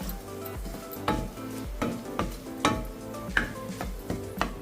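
Whole red chillies and cumin sizzle in hot oil for a dhaba-style daal dhokli tempering. A steady close crackle is broken by several sharper pops and clinks of stirring, with no talking.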